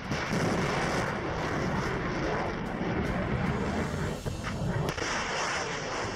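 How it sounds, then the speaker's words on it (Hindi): Russian missiles launching across the Pacific Ocean, one after another, give a loud, sustained broadband roar and rumble that fills the whole stretch without letup, with no voices. "प्रशांत महासागर के सीने को चीरती रूस की मिसाइलें"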